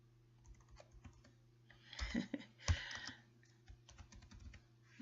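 Quick bursts of typing on a computer keyboard, close and fairly quiet clicks in uneven runs over a low steady hum.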